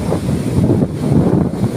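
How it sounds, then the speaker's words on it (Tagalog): Rough sea churned by a mild typhoon, with strong gusts roaring across the microphone over surging, crashing waves, loud, close and uneven in swells. "Dagat na may konting bagyo."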